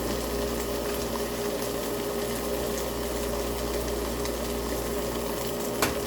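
Rice simmering in a rice cooker gives a steady, low bubbling hum with a faint continuous hiss that stays even throughout, ending in one small click near the end.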